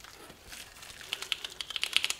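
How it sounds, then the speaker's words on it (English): Keys clack on the mechanical keyboard of a MEGA65 DevKit computer, with a quick irregular burst of sharp, close taps in the second half after a quiet start. "Nice mechanical keys."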